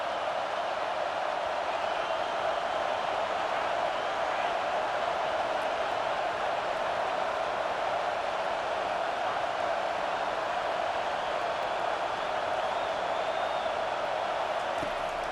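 Steady roar of a packed stadium crowd in the football game EA Sports College Football 25, a dense, continuous wash of cheering at even loudness throughout with no breaks.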